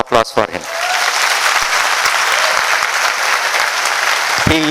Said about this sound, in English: So one more round of applause for him.